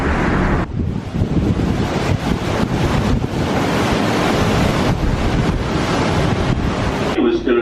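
Large ocean waves surge and crash against a cruise ship skirting a storm at sea in a swell of about five meters, a loud, continuous roar with heavy wind buffeting the microphone.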